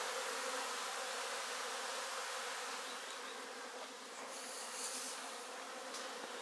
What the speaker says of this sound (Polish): Pszczoły teraz się oblatują.